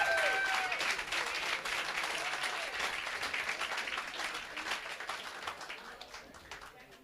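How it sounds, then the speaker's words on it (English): An audience at a rowing regatta prize-giving breaks into applause, a dense wash of clapping that starts loud with a brief whistle and slowly tapers off over several seconds. "If we can just give Standard Bank a round of applause for their support for the event."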